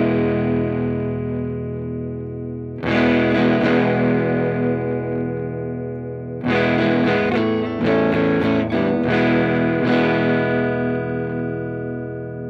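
An electric guitar through a Benson germanium fuzz pedal with the impedance rolled up, giving a thick, overdrive-like distortion: loud sustained chords and strummed bursts with long decays, played alone.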